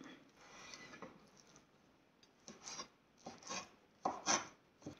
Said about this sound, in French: on va découper finement pour faire des cubes